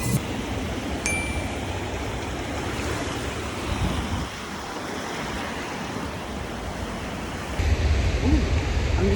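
Ocean surf rolls steadily onto the sand at South Beach, Miami, a broad continuous wash with wind buffeting the microphone and a brief ding early on, louder gusts toward the end.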